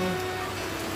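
A brief stretch of steady rain gives an even hiss, with a low tonal hum running underneath.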